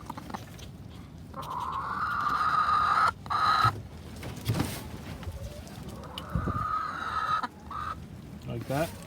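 Chickens cluck and murmur close by inside a chicken coop in an uneven stream of soft calls, with a few brief louder squawks mixed in.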